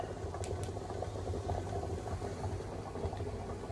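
Water boiling in a pot on the stove, used to cook the middle of a cake, gives a steady rolling bubble and hiss over a low hum, continuous and fairly close, with no talking.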